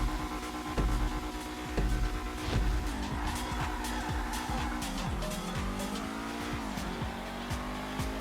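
A Dewbauchee Seven70 sports car in GTA Online accelerates hard with a loud, sustained engine roar rising through gears, brief tire squeal and skidding at the start, continuous and close throughout.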